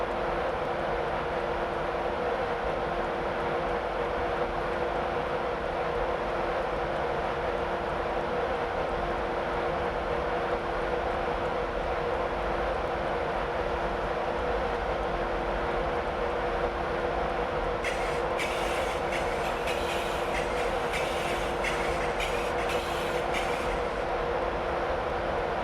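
Class 91 electric locomotive running at speed on the East Coast Main Line between Newcastle and Edinburgh in Train Simulator 2016, a steady rumbling drone of wheels and motors, with a brief burst of clicking near the end.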